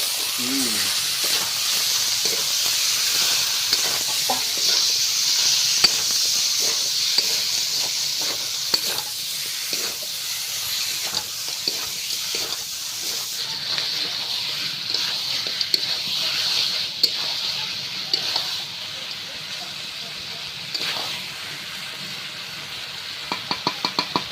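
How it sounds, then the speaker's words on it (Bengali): Chicken pieces frying in hot oil in a pan, a steady sizzling hiss with stirring and scraping clatter throughout, close and fairly loud, no talking. "তেলটা হয়ে গিয়েছে আর মাংসটা দিয়ে দিচ্ছি"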